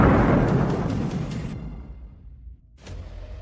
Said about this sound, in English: the second shot strikes the anti-aircraft system